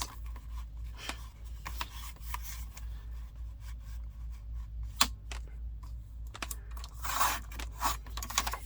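Paper is cut down to size for handmade vintage-style library pockets: quiet scraping and crisp snipping strokes at an irregular pace, with a few sharper cuts and a louder rustle near the end, no voices.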